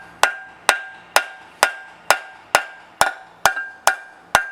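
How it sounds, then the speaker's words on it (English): A hammer taps the outside of a Bravo drive unit bearing carrier held in a homemade puller: ten light, sharp, evenly spaced metallic knocks ringing close and alone. "I tap the outside"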